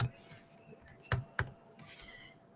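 Keys tapped on a computer keyboard to spell out a single short word, a quick irregular run of sharp clicks with brief pauses between them, close and fairly quiet.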